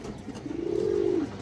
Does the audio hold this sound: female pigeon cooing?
yes